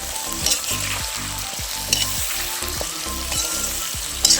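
Pork with turmeric powder and salt stir-fries in a pan with a close, steady sizzle, a repeating low pulsing throb beneath it, and a few sharp scrapes or clinks as it is stirred.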